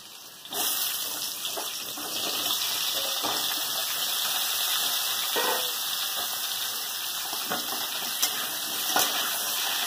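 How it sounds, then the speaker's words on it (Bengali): Papaya and potato pieces fry in hot oil left from frying green bananas, giving a continuous close sizzle with occasional sharper pops and crackles throughout. "এবার ওই তেলে পেঁপে আলুটা দিয়ে দেবো।"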